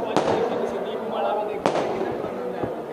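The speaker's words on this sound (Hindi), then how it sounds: "मेरे पिछे आतिशबाजी काफ़ी हुई" Diwali and Bandi Chhor Divas fireworks burst at Darbar Sahib, the Golden Temple in Amritsar, with two sharp nearby bangs about a second and a half apart over a steady hiss of crowd and crackling.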